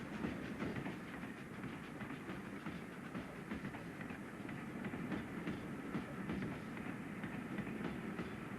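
A train arriving at Wolverhampton's low-level station rumbles along steadily with a continuous clatter of wheels on the rails, loud and close, with no voices.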